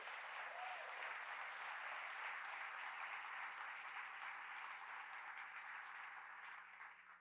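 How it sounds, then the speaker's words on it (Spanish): Sustained applause from a church congregation fills the space, steady and dense for several seconds before starting to thin toward the end, with no talking over it. "Dale un aplauso a él."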